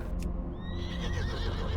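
A horse gives a loud, shrill neigh that rises and wavers for nearly two seconds over a bed of clip-clopping hooves, close and clear with no talk.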